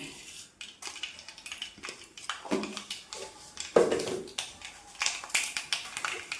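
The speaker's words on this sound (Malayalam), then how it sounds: "നമ്മുടെ എണ്ണ ചൂടായതിലേക്ക് ഞാൻ അര ടീസ്പൂൺ കടുക് ഇട്ട് കൊടുക്കുകയാണ്" Mustard seeds dropped into hot oil in a pan for a green mango thoran, crackling and spluttering in quick irregular pops with some clinks of utensils, close and fairly quiet.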